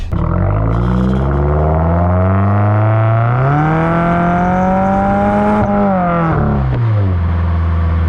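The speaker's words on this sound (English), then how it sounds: "Exhaust sounds really good. Nothing too crazy loud. Just gives it that nice, deeper tone." A Subaru WRX with an AWE track exhaust, ETS intake and COBB Stage 1 tune accelerates hard, a loud, close, deep exhaust tone rising steadily in pitch through the gears before easing off.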